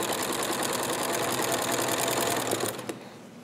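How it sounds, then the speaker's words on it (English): Sewing machine stitching quilt binding fed from an Easy Binding Winder, a loud steady rapid whirring hum with a fast mechanical pulse that runs continuously, then slows and stops near the end. "I always make sure that my needle is in the needle down position. And just start sewing."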